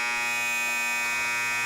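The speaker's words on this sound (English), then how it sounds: "that buzzer is going to signify the start of the second quarter" A gymnasium scoreboard buzzer sounds a single steady electronic tone at a girls' high school basketball tournament game, signaling the start of the second quarter; the harsh, sustained blare runs unbroken, loud and close, with no talk over it.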